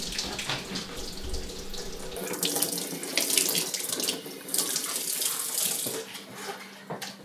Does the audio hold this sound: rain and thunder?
no